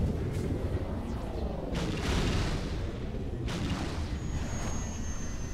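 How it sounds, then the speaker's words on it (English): Grenade blasts thud in Halo 2 amid ongoing combat, two or three heavy booms with broad rushing tails rising over a constant rumbling battle bed, fairly loud and close. "they're throwing grenades"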